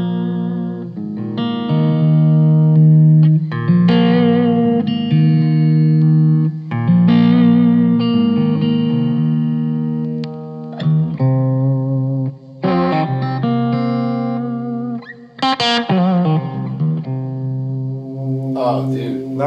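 An Airline MAP DLX baritone electric guitar sounds loud and upfront through effects pedals, with sustained heavy chords and riffs that break into short gaps and pick up again, thick with distortion and chorus.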